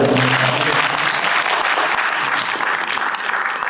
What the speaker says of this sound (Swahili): mungenipigia makofi hapo